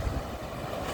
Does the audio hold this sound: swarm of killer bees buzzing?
no